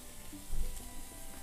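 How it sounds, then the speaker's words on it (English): Steak sizzles on a screaming-hot cast iron grate on a grill, a steady soft crackling hiss with no one speaking. "put that on the screaming hot cast iron grate, and let's hear that sizzle"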